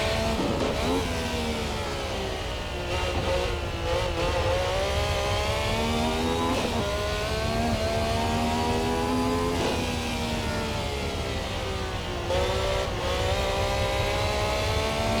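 Niki Lauda's Ferrari 312T racing car in a racing video game, its engine screaming continuously at high revs, dropping briefly on gear changes before climbing again, loud and steady throughout.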